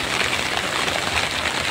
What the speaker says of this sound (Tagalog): So inabutan talaga tayo ng ulan mga idol.